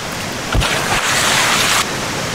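A jungle waterfall in the survival game Green Hell pours with a loud, continuous rushing roar that swells for a second or so before easing back to a steady wash.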